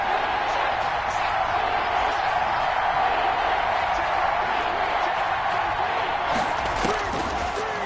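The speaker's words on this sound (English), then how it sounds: "The crowd getting into it as we come up on a big 3rd down." Simulated stadium crowd in a Madden NFL football game swelling into a continuous loud roar before a big third down, with a commentator speaking over it.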